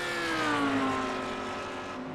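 GT3 race car at Road Atlanta in a racing video game, its engine holding a steady high drone that slides gently downward in pitch, loud and continuous throughout.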